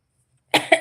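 Someone with a lingering, persistent cough lets out three quick, close, fairly loud coughs in a row after a moment of silence.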